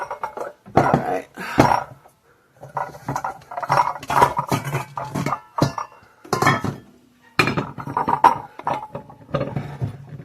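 Colored 1970s Pyrex glass mixing bowls being taken out in a kitchen, with several sharp clinks and knocks of glass against glass in irregular bursts, close by with short gaps of quiet.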